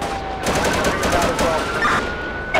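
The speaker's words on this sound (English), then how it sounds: "shots fired on our vehicle, shots fired on our vehicle" Rapid gunshots from a police shootout in GTA 5 with the LSPDFR mod, set in snowfall, crackle as a loud, continuous volley with a faint tone running underneath.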